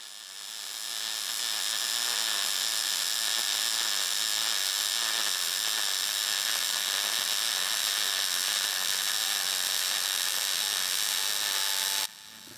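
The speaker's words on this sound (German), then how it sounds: "wenn wir als nächstes die Kehlnaht schweißen" An ESAB Rebel EMP 205 AC/DC welder lays a fillet weld: a steady, loud, crackling arc hiss that starts about a second in, holds evenly for roughly eleven seconds, then cuts off abruptly. No voices.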